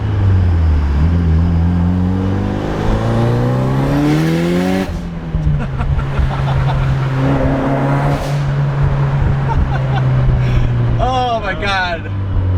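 A Mitsubishi Evo IX engine revs and climbs through a gear, pitch rising then dropping at a shift before droning steadily, loud and close from inside the car, with a voice briefly exclaiming near the end.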